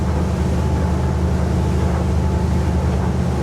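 Motorboat diesel engine throttled back to about 2,500 revs during a boat-versus-car race off Lymington, a steady loud low drone with constant hull and wind rumble, no voices.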